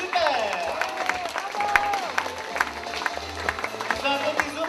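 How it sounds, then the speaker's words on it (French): Audience clapping for a performer at an outdoor park entertainment show, scattered applause mixed with crowd noise and voices talking over it, with some whistle-like tones and thumps in the background. "On peut l'applaudir très fort, elle est super!"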